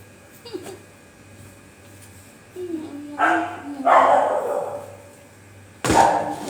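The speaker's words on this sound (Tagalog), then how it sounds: "Iyak lang yung aso." A dog whines and yelps close by, with a few sharper barks and rustling noises between quieter pauses.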